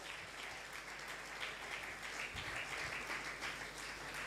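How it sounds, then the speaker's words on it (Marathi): Sustained applause from a congregation at a church 30th anniversary thanksgiving service, a steady even clapping that fills the whole stretch at moderate loudness. "टाळ्या जोरदार झाल्या पाहिजेत"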